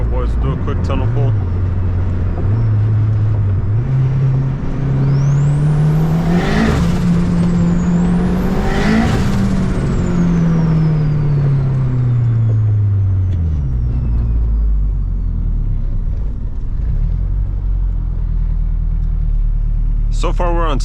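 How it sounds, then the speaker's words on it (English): A turbocharged K24 Honda Accord accelerates hard through a tunnel, its engine note climbing and falling through the gears with loud turbo whine and whoosh echoing off the walls, close and continuous. "I just thought I'd share the turbo sounds and the overall driving experience of this car"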